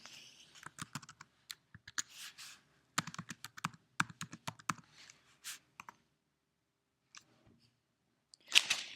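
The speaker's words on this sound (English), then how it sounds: "Enter your username and password." Fingers type on a computer keyboard in close, quiet, irregular bursts of clicking keystrokes, pausing briefly between runs.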